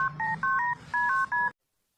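A run of telephone keypad dialing tones, about nine short beeps in quick irregular succession, loud and close, with a faint low hum beneath and no talking, ending abruptly in silence.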